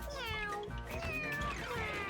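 A cat meows in the video game Mewgenics, with a couple of drawn-out, wavering meows over soft background music, quiet and without talk.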